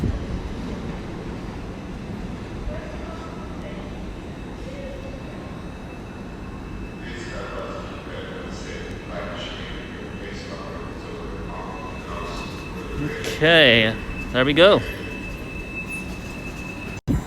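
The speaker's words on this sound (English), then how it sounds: "That's the 345061 now going back out to Reading" Class 345 train 345061 pulling out of London Paddington toward Reading, a rumbling roll with wheel squeal rising near the end, while a voice speaks briefly.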